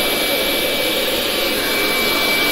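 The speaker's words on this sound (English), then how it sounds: "careful not to drag your hair dryer through the resin like I just did" A hair dryer blows hard and steady on resin during a Dutch pour with nail polish, a loud, close, continuous whoosh with no speech.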